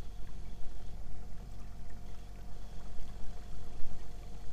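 Trolling motor pushing a kayak at speed setting 2, a low steady motor hum with rhythmic water sloshing and lapping against the hull, heard close without talking.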